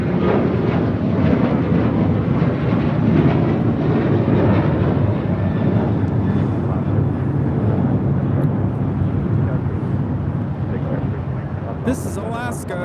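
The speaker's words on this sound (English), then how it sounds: "This is Alaska 286 taking off to Newark on a 737-800" An Alaska Airlines Boeing 737-800 on its takeoff roll at LAX, flight 286 to Newark, gives a broad, heavy rumbling roar that stays steady and loud, with buffeting wind noise mixed in.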